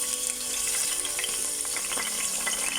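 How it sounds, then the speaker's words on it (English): Curry leaves sizzle and crackle in hot oil in a cooking pot for sausage chutney, a loud, close, continuous frying hiss with small pops and no talking. "To the pot I'm adding some curry leaves"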